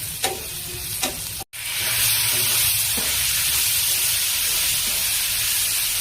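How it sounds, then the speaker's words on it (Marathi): Tomatoes frying with roasted chillies in a pan for a dry sprouted-legume dish, a steady loud sizzle that starts abruptly after a brief gap, with a few stirring clinks early on. "आता आपण टोमॅटो घालूया।"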